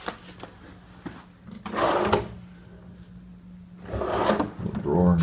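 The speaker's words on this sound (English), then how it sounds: "A little drawer in the desk." Wooden hotel-room desk drawer sliding open and shut twice, rumbling scrapes separated by quiet, with a voice speaking at the very end.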